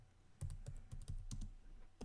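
Quiet computer keyboard typing a sudo pacman command: a brief run of crisp key taps in irregular quick succession, close and faint.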